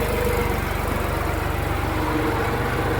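A New Holland tractor engine runs steadily with a continuous low pulsing throb, loud and close, with no speech over it.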